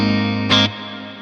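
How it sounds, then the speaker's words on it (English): Electric guitar through a Quad Cortex amp modeller set to an ambient clean tone, a sustained ringing chord with a brief brighter strum partway through, loud and close, fading toward the end, with no talking. "beautiful ambient clean tone"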